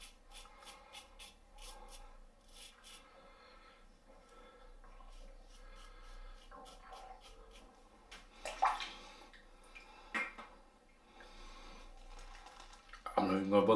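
Water rinses shaving soap out of a brush, a faint, soft trickle that ends in a brief, louder splash.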